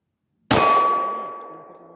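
A pistol round strikes a small black steel stop-sign target with one sharp metallic clang that rings on with a sustained tone and fades slowly, alone without talk.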